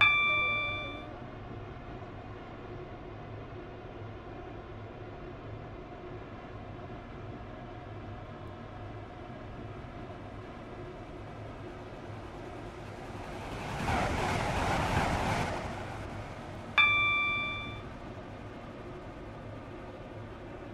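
Class 377 electric train running in the Roblox SCR game, a steady low rumble of motion with a swelling rush of noise midway and faint chime-like tones at the start and near the end.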